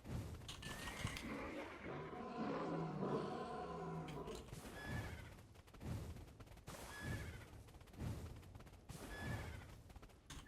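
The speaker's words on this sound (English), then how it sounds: "that's why you bring your horse for this" Horse whinnies from the Black Desert Online video game, a loud neigh around the middle followed by repeated game effect sounds and background music, with no talking.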